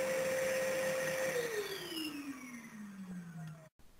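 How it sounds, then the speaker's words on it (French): The SL15P12P quiet vacuum cleaner runs with a steady motor whine that drops gradually in pitch as it spins down, then cuts out abruptly near the end. "le SL15P12P est un aspirateur particulièrement silencieux"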